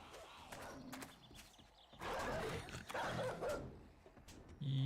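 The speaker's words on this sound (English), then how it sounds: "There's a dog around here somewhere." A dog barks in the video game 7 Days to Die. The barks are faint and scattered and sit under a busy, noisy game soundscape.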